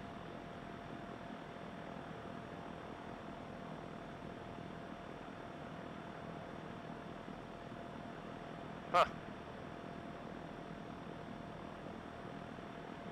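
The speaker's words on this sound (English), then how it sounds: "if I hit the throttle right now, that RPM moves really smooth." A Mooney aircraft engine in a flight simulator game drones steadily and faintly with no clear rise in pitch, interrupted by one sharp click near the end.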